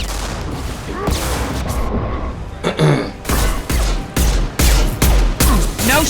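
Sniper and other weapons fire in a firefight in Mass Effect Legendary Edition, with loud sharp shots and booms in rapid bursts against a dense combat background.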